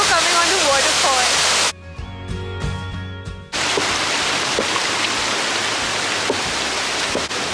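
A waterfall in Jibhi, Himachal, roaring as a dense, steady wash of falling water, loud and close. It is interrupted midway by a short quieter stretch with a tonal hum, then returns at full strength.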